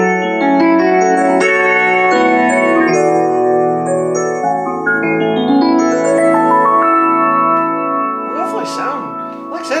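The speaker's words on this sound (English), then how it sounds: "So you could have a modern electric piano sound like this." A Kawai CN301 digital piano on its electric piano voice plays smooth flowing chords and runs, mellow and close with a slight shimmer, sustained throughout without any talking.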